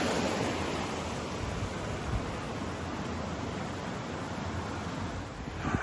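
Steady rushing water of Sharpland Creek on the Mount Somers track fills the scene, a continuous broadband flow nearby, with a faint wind-like hiss and no voices.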